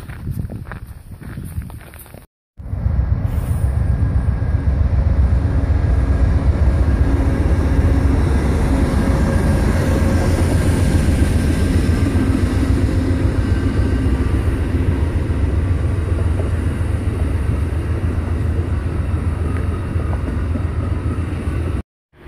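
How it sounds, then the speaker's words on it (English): A steady, loud rumble of a train rolling along tracks near the Appalachian Trail, continuous and close after a brief cut near the start, with no voices. "Another little train thing going on up here."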